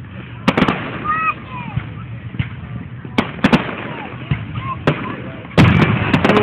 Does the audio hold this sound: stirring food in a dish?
no